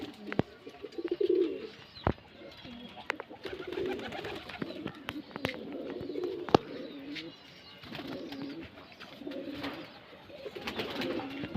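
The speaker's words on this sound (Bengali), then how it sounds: "সবই সেলের পায়রা এগুলো এগুলো যেটা ইচ্ছা নিতে পারেন আপনারা" Racing pigeons kept for sale coo repeatedly in soft, rolling calls, with several birds overlapping at close range and occasional sharp knocks and wing clatter.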